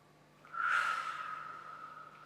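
A single slow, audible breath blown out steadily during a tai chi relaxation exercise, rising quickly then fading gently over a couple of seconds, close and breathy, with no talking.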